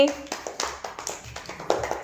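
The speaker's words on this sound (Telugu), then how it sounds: "మన్విత క్లాప్స్ కొట్టండి" Children in a primary school classroom clap in a quick, uneven string of sharp claps, moderately close, while an adult voice speaks between them.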